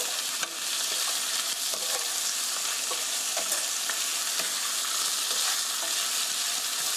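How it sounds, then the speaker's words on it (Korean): Zucchini stir-frying with garlic and black pepper in a pan, a loud, constant sizzle up close with scattered light scraping and stirring taps throughout. "그래서 살살 볶아주세요."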